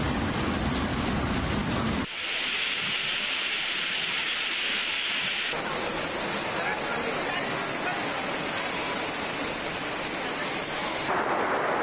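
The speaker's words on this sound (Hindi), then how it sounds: "रावलपिंडी इस्लामाबाद में मूसलाधार बारिश, नशेबी इलाके पानी में डूब गए।" Torrential downpour over Rawalpindi and Islamabad with low-lying areas flooded, heard as a loud, dense roar of heavy rain that changes abruptly across several cuts, with a voice speaking over parts of it.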